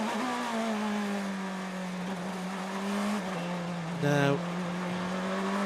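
Race cars at the IMSA Petit Le Mans endurance race at Road Atlanta drone past with a sustained engine whine that rises and falls, under a commentator's voice.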